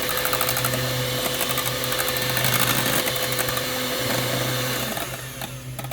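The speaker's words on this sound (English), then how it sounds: "I'm going to grab the beaters and I'm going to beat them on medium" Electric hand beaters run on medium speed through eggs for carnivore egg bites, giving a loud, steady motorized whir with a constant pitch that holds throughout and eases slightly near the end.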